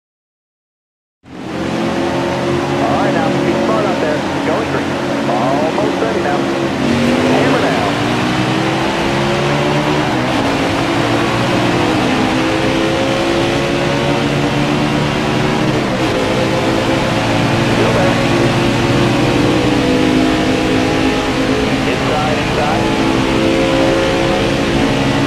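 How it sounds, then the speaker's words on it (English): Race car engines in NASCAR Heat 4, racing at Talladega, roar loud and steady from start to finish, with revs that rise and fall and a dense drone of several cars together. "start your engine."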